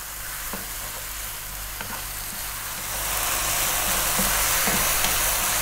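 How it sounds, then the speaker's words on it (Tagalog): Ingredients for ginisang munggo sautéing in hot oil in a pan, a steady close sizzle that grows a little louder and fuller midway through, with occasional faint clinks and no talking. "Gigisahin ko lang siya ng mga 2 minutes."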